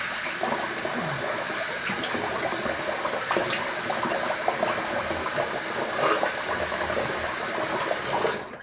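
A bathroom tap runs water over a razor being rinsed, a steady splashing hiss heard close up that continues unbroken until it cuts off at the very end.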